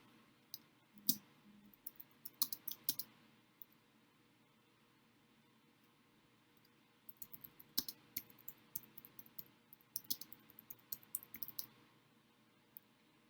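A computer mouse clicks in quick bursts of short, sharp taps during firmware setup work on a computer, faint and close, with a pause in the middle and no speech.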